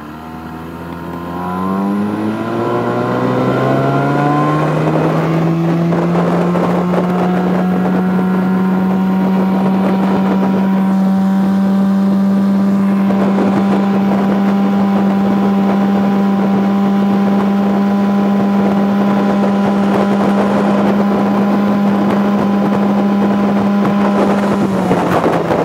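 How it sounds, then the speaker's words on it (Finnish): An Evinrude E-tec 50 hp outboard motor without its cover, mounted on a Yamarin 4500 boat, revs up and holds a loud, steady droning whine close by, with wind buffeting the microphone throughout. "Meteli on aika kova, kun ei ole koneessa koppaa"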